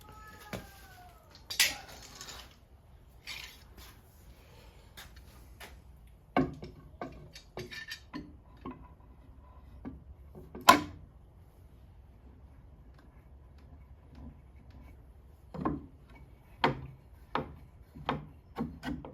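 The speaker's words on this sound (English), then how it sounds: "So I'm going to clamp it here, suck that in a little bit so that it can go together." A clamp is tightened on a wooden frame during glue-up of a Stickley 913 dresser, giving scattered, quiet wooden clicks and ticks with a few sharper knocks spread through otherwise near silence.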